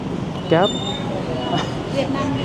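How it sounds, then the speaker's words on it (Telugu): Busy Hanoi train station ambience with a rumbling background wash, a brief tonal squeal or announcement-like chime, and murmuring voices nearby. "ఇక్కడ నేను ట్రైన్ ఈ స్టేషన్ దగ్గర ఉన్నాను"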